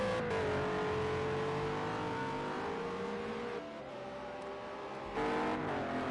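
Race car engines roar steadily as cars cross the finish line at Silverstone in a PS4 racing game. The loud, sustained engine drone shifts pitch as the cars accelerate, with no talk over it.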